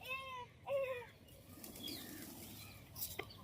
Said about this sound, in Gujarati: જો પોપટ, જો કબૂતરો બધા જોવા